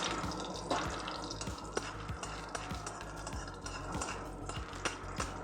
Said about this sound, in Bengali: ছোট এলাচটা একটু নেড়ে চেড়ে নিয়ে